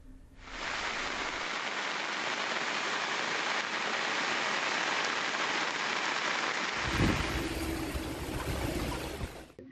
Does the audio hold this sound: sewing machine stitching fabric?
no